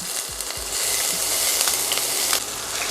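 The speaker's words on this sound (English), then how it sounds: "we're gonna add about 2 tablespoons of olive oil to a hot pan, and we're gonna sear these off" Onions and oxtail hit hot olive oil in a pan and give a steady, close sizzle, with a few low thumps at the start as pieces drop in.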